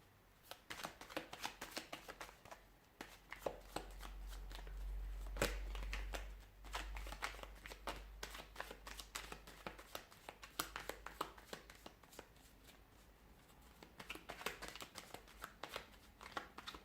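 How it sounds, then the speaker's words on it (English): Tarot cards are shuffled close by, with soft repeated riffling and clicking rustles that continue throughout at a quiet level over a faint low rumble. "Give the cards a shuffle."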